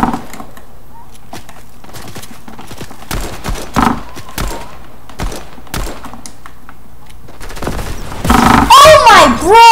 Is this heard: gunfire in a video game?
yes